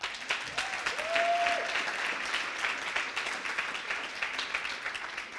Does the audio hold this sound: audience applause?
yes